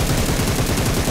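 Rapid automatic gunfire from a 40-round magazine in the mobile battle royale game PUBG Mobile, a dense, continuous burst of shots firing at a steady fast rhythm, loud and close with no pause.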